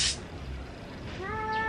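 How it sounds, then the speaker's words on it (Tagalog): Cats yowling and meowing in a short squabble behind a person, a drawn-out rising caterwaul that is fairly close and clear, with no talk over it. "Ay, awatin ko pa ng mga pusa sa likod ko."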